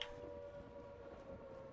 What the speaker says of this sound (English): You got the sirens going off.